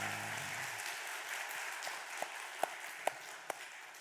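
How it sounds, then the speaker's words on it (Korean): A church congregation at a Korean Sunday worship service claps softly and steadily, heard at a distance, with a few sharper, louder individual claps standing out near the end. "우리 잘했다고 박수 한번 하겠습니다."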